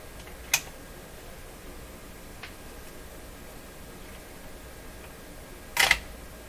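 Sharp cracks come from a 1935 Rogers model 7R622 tube radio as a wire inside is pushed: a short snap, a fainter tick, then a louder crackling burst near the end over a quiet hiss.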